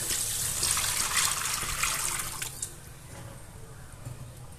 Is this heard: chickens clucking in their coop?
no